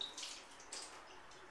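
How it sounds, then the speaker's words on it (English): Water poured out of a sprouting jar while rinsing sprouts, a faint splashing trickle with a couple of small surges, quiet and brief, no talking. "So she's gonna pour that water back out."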